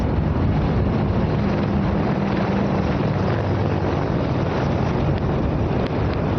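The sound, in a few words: Apache helicopters flying past in formation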